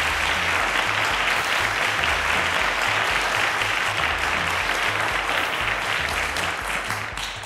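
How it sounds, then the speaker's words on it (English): Sustained, loud applause from a studio audience on a televised school quiz show, a dense wash of clapping that holds steady for several seconds before easing slightly at the end. "Round of applause to Dennis."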